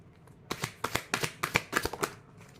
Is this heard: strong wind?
no